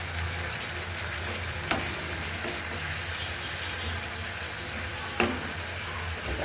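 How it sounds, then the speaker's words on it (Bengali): Snakehead fish (shol) frying in oil in a pan, a steady close sizzle with two brief sharp clicks of utensil or fish being turned. "এখন আমি মাছগুলো দিয়ে দেবো, একটু করে মাছ দিয়ে উল্টিয়ে দেবো"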